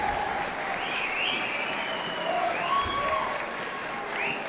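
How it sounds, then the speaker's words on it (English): An audience at a school band concert applauds a 5th and 6th grade band, with steady, moderately loud clapping running throughout and a few voices rising above it. "Let's have another round of applause for our 5th and 6th grade band."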